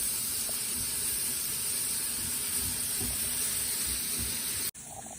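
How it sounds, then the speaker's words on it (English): Onions and celery sauteing in a hot pan give a steady, bright sizzling hiss that runs evenly and closely, then cuts off abruptly near the end. "saute them while constantly mixing"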